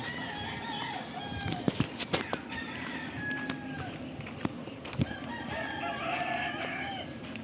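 Rooster at a backyard chicken farm crowing among other fowl, with several crows and clucks rising over a steady farmyard background of birds and hum.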